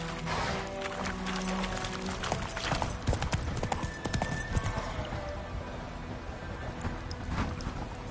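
Hoofbeats of Roach, the horse in The Witcher video game, a rapid steady clip-clop with a snort or whinny, set against a constant hiss like rain.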